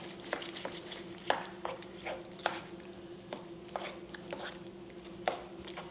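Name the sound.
bacon being stirred into pasta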